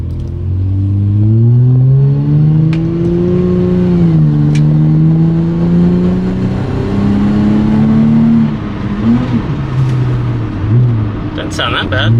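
A second-generation Honda Odyssey minivan with a custom catless exhaust revs up and down repeatedly, its loud, close engine note rising and falling in several sweeps over about twelve seconds.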